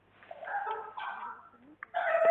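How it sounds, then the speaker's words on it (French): A pet parrot squawks and chatters in a few short, harsh bursts, fairly close and moderately loud, with a brief gap before a final louder squawk. "Ah bah c'est le perroquet"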